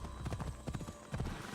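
A horse's hooves clip-clop in a steady trotting rhythm in the ancient Greek world of the video game Assassin's Creed Odyssey, close and clear, with a faint background hum and no talk.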